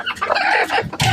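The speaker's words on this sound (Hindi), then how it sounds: "देखो दोनों मुर्गी कुड़क हुई थी और दोनों भी अभी कुड़क ही है" Broody hens in a coop cluck and squabble in loud, close bursts of agitated calls, with one sharp outburst near the end.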